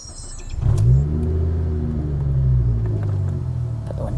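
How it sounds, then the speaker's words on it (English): A Ford Focus ST225 Mk2 turbo engine with a loud exhaust cranks and catches, then settles into a steady, deep idle rumble close by, with a brief rev as it starts. "let's go ahead and turn the car on"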